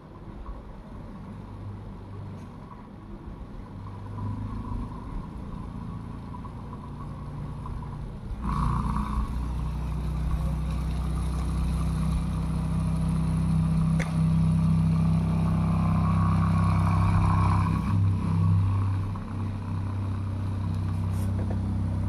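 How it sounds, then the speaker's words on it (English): A homemade brushless DC motor with a hand-built rotor spins up on a 16-volt supply, a steady close hum that jumps louder partway through and holds a continuous whirring drone. "here the sixth motor is running."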